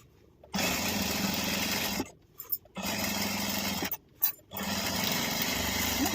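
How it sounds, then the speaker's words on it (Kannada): A sewing machine stitches fabric for a festival return gift in three runs of steady whirring, separated by short pauses with a few small handling clicks. "ಇವಾಗ ಇದನ್ನು ಈ ರೀತಿ ತೊಗೊಂಡು ನೀಟಾಗಿ ಸ್ಟಿಚ್ ಮಾಡ್ಕೊಳ್ಳಿ"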